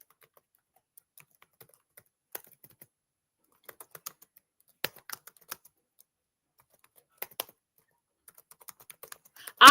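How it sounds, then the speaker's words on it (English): Scattered keystrokes on a computer keyboard, close and quiet, tapping in irregular bursts with pauses between them, ending with a brief louder sound. "I'm typing in"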